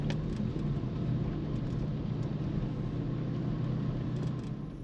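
Toyota Hilux driving by with a steady mid-pitched engine drone and road rumble, moderately loud and continuous, with faint clicks over the top.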